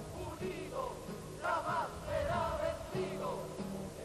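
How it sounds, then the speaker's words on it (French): Archival crowd on Place Leclerc in Paris, a dense murmur of many voices with scattered shouts and calls rising and falling, moderately near and continuous. "La foule sur la place Leclerc."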